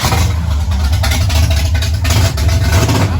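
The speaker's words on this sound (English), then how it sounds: "And my son here, Smile, he's going to start her up for us so we can hear it rumble with no other exhaust on it." A 1969 Pontiac Firebird's engine rumbling deeply with an open exhaust, a steady throaty idle close by with slight rises in revs.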